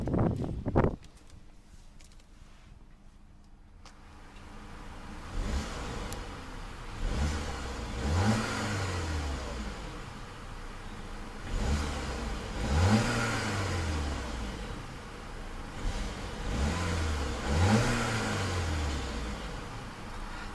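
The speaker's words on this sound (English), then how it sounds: "let's see about a couple of revs of that 2-liter turbo and see what kind of soundtrack she produces" A 2-liter turbo car engine idles, then is revved three times in an evenly spaced rhythm, each rev rising sharply and falling back, heard up close and fairly loud.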